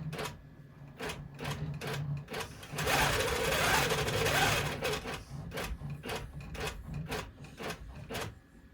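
A sewing machine stitches a notebook cover in a quick run of sharp, regular mechanical clicks, close and clear, with a denser whirring burst in the middle before the steady ticking rhythm resumes.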